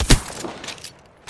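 A single sharp, loud burst of gunfire rings out in the Apex Legends video game, then trails off into a short fading echo.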